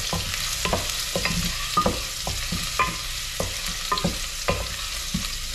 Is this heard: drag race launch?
no